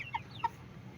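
Chicken giving two short, soft clucks close by within a second, against a low background hum.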